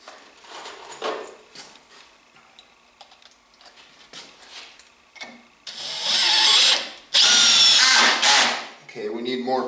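A power drill drives 3-inch screws into wooden framing for a reloading bench, with two long, loud whining bursts after a stretch of quieter tapping and handling noises.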